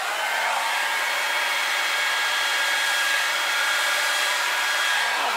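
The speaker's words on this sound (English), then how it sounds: "I'm going to blow it with my blower." A close, constant whoosh comes from an electric blower aimed at poured acrylic paint. The airflow runs steadily and alone at an even loudness, with no voices.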